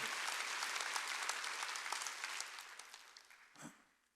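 Church congregation at a Wednesday worship service claps together in a dense, steady burst of applause that gradually thins and fades out, with one last faint patter near the end.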